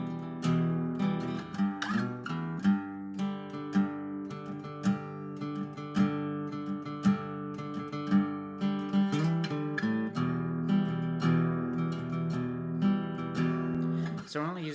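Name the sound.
guitar strumming the intro of a song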